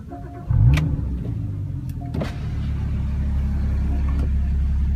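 A 2016 Porsche Boxster Spyder's engine cranks and catches with a loud, sharp flare, then settles into a steady, deep idle rumble that grows slightly fuller, heard close up with no talking.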